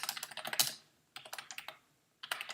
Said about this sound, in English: My very noisy, clunky keyboard